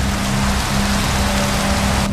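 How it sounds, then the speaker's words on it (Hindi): Steady rain patters down in a dense, continuous hiss, close and fairly loud, with a faint low hum running underneath and no voices. "बारिश होनी स्टार्ट हो गई"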